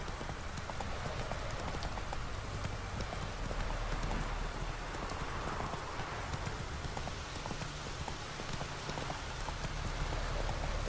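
Roach, a horse in The Witcher 3, gallops steadily in a fast, continuous clip-clop of hooves that runs for the whole stretch under a constant background wash.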